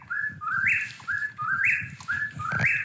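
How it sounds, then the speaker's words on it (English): A whippoorwill calls loudly and close in a forest by a lake in Kawartha Highlands Provincial Park, repeating its three-part rising whistle about three times in steady rhythm. "So that's a whippoorwill. Whippoorwill. Crazy loud."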